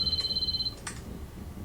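A flip phone rings with a short, repeating electronic trill for under a second, followed by faint clicks and low background noise.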